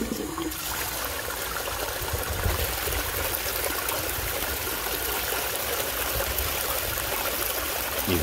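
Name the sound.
water flowing through a recirculating sluice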